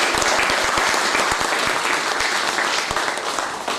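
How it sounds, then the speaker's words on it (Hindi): An audience at a Hindi literature event claps steadily for several seconds, a dense burst of hand claps that stays loud and full, with no voices over it. "आप मुझसे सहमत हो तो ताली बजाकर"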